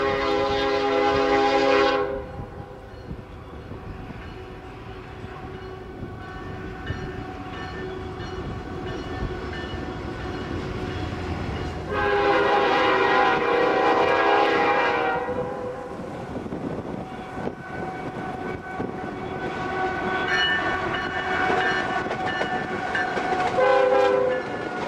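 A mixed freight train carrying fuel, frozen goods, grain and corn syrup rolls through Portola with a continuous rumble and clatter of wagons. Its horn sounds in several loud blasts spread across the pass.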